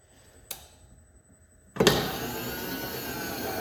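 A BHJ line boring machine on a Smithberg Racing power feed drive: a brief click, a short pause, then the motor kicks in and settles into a steady whirring hum close by.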